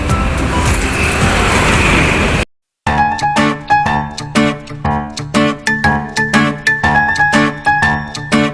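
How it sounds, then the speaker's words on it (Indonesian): Road traffic rumbles past a roadside stop as a loud, dense wash of noise for about two seconds, then cuts abruptly to a separate, rhythmic, tonal sound. "Belakang banyak kendaraan soalnya"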